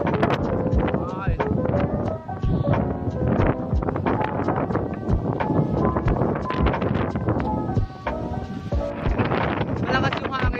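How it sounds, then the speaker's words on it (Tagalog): Strong wind gusts during a hike at Gibon in Nabas, Aklan, ahead of an approaching typhoon, roaring and buffeting the microphone without pause, loud and close, with brief rumbles and snatches of people talking. "Malakas yung hangin"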